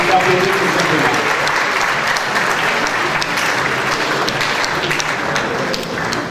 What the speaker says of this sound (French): Ça s'applaudit tout simplement.